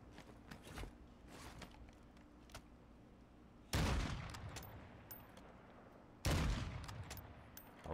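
Gunfire in the video game DMZ: two loud, sharp shots ring out with long decaying echoes, one near 3.8 s and another near 6.3 s, over quieter scattered distant pops and ambient noise, with no talk.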